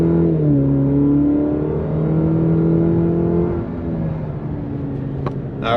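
A 2020 Cadillac CT5 with a 3-liter turbocharged engine accelerates smoothly, its rising engine whir climbing in pitch through gear changes from inside the cabin, steady and fairly loud before easing off at the end.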